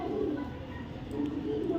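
Pigeon cooing at close range, a soft continuous low warble throughout with the bird's murmuring calls blending together, near and steady.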